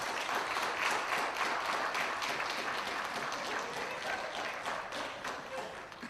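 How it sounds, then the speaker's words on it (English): Sustained audience applause at a lecture welcoming a guest speaker, dense, even clapping from a sizeable crowd filling the whole moment without a break. "Let's give her a round of applause for that introduction."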